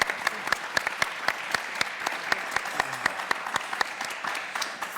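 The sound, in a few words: audience applause for panelists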